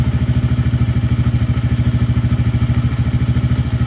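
A Lifan King motorcycle engine idles up close with a loud, rapid, regular thumping pulse, steady throughout with faint clicks above it.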